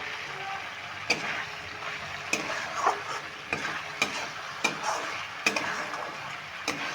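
Masala and boiled potatoes are sautéed for a banana flower and lentil kofta curry, giving a steady close sizzle with repeated sharp ticks of a spatula scraping the pan at irregular intervals.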